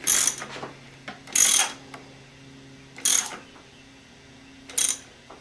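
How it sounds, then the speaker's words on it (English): A ratchet is used to tighten a fuel filter on a Mercedes 300D, giving four separate bursts of sharp clicking and clatter with quiet gaps between them, up close in a workshop setting. "turn my ratchet around to the tightening position"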